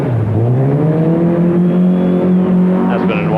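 A Datsun rally car roars past loud and close at a 1983 rally, its engine note rising then falling as it goes by, with a commentator's voice running over it.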